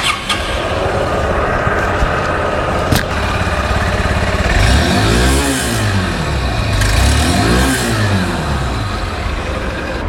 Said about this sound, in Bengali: এখন আমি আপনাদের বাইকের সাউন্ডটা একটু শোনানোর চেষ্টা করি।